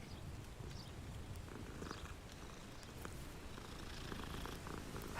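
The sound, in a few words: cat purring while being petted in Hogwarts Legacy video game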